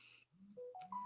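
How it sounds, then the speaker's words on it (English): A mobile phone ringtone plays a short run of faint, rising electronic notes, heard alone with no voices. "That's my phone again."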